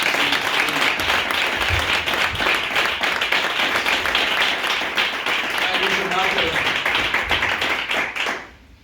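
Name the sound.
church congregation applause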